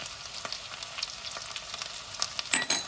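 Spices, including paprika, sizzle and crackle in hot oil as a spoon stirs a pot of soup, with scraping strokes growing louder toward the end.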